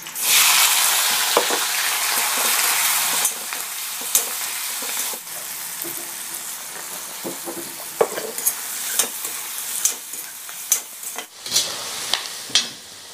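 White onion, green capsicum and yellow chili land in hot oil with a loud burst of sizzling that settles into a softer fry, then repeated spatula knocks and scrapes as the pan is stirred.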